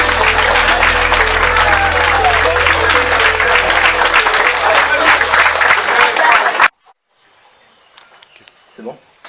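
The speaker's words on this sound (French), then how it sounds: "On peut les applaudir." Loud, dense audience applause fills a hall at the final of a student eloquence contest, with a steady low hum beneath it, then cuts off sharply into near silence with a few faint sounds.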